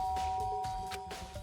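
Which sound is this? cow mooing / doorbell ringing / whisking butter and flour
doorbell ringing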